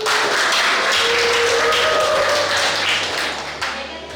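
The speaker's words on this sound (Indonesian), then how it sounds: "Mari kita berikan tepuk tangan yang meriah untuk ketiga kandidat." Lively applause from a school audience for three student election candidates, a dense, steady rush of clapping that stays loud and close for about four seconds before easing slightly.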